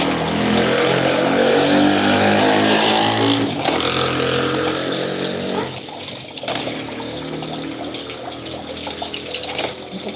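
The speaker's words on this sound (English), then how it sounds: "Motorcycles are so annoying." Motorcycles passing outside, a loud broad engine roar that swells at the start and slowly fades, followed by a quieter second pass with steady rumbling.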